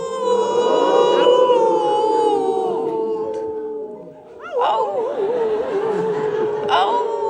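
A group of huskies howls together in long, wavering, overlapping tones, loud and close, sustained with only a brief dip partway through.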